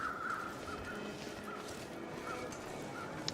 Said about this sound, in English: Hopefully we can fall asleep with all these dang crows.